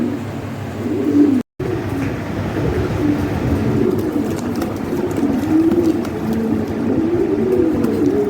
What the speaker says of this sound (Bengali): এই দেখেন কবুতর কত সুন্দর কবুতর।